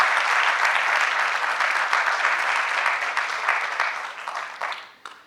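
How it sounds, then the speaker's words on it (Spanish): An audience at an agribusiness event in Peru applauds the panelists, a loud dense wash of clapping that holds steady and then tapers off over about five seconds. "pido un fuerte aplauso para los panelistas"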